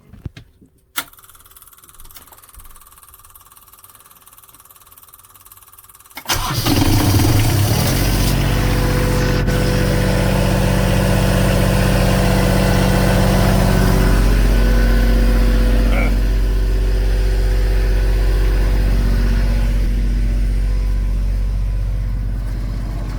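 A marine generator's steady mechanical engine drone kicks in loudly after a few quiet seconds and runs continuously, a constant low rumble with a pumping hum.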